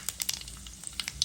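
Dried red chillies and panch phoron spluttering in hot oil for pumpkin bhaji, with a quiet bed of sizzle broken by quick sharp crackles and pops in a short burst.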